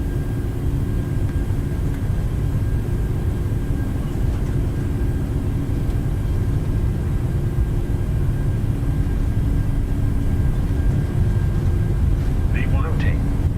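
A PMDG 737-800 on its takeoff roll in Microsoft Flight Simulator: a steady, loud low engine roar with a constant hum, rumbling evenly throughout, with a brief faint tonal chirp near the end.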